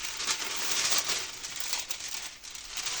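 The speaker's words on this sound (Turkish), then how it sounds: "Kağıtların çok ses çıkartabilir ama kusura bakmayın." Paper crinkling and rustling close by, a continuous crackly texture that swells and fades for a few seconds.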